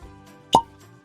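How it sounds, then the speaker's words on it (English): A real cork pulled from a freshly opened bottle of Jack Daniel's Twice Barreled whiskey, a single sharp hollow pop rising out of near silence, with faint handling sounds before and after. "Let's do a fresh cork pop together."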